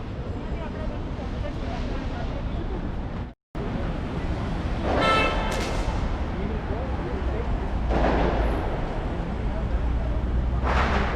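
Several firecrackers burst at a distance over a steady rumble of wind and crowd noise, with people talking nearby, during Diwali celebrations in Dubai.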